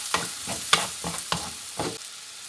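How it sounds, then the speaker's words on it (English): Paprika being stirred into a Spanish-style chicken dish in a pan, with five or six distinct scraping strokes in a steady rhythm over a soft sizzle, close and clear. "We'll give that a good mix."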